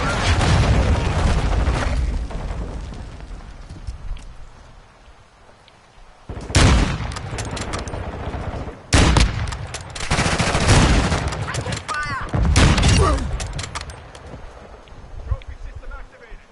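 Cluster bomb explosions in the shooter game Modern Warfare 2, several heavy booming blasts in bursts with rumbling gunfire around them, loud and close, with voices speaking in between.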